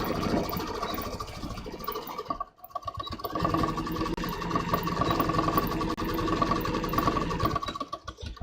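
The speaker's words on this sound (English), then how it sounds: "I'm stitching all the way onto the crotch seam" Sewing machine with a denim needle stitching along the crotch seam of jeans, a steady close mechanical whir with rapid needle clatter, one brief pause partway through, then running on continuously.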